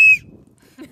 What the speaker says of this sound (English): It has a whistle.